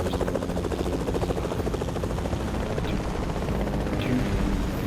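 A helicopter in the Fortnite video game drones with a steady, continuous rotor chop that fills the whole stretch at moderate level, with faint scattered game noises over it.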